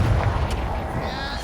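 A Confringo explosive spell blast in Hogwarts Legacy booms loud and close, a heavy rumbling burst that sustains and slowly fades, with game sounds layered over it.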